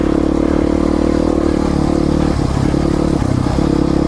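A Triumph Tiger motorcycle engine runs loud and close, a steady, dense drone with a slight dip and rise in tone partway through.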